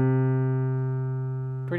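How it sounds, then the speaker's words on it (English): A jazz piano bass line played alone as a chord substitution, a sustained low note ringing steadily and slowly decaying before a new note is struck near the end. "if we're just listening to the bass, it would sound like this."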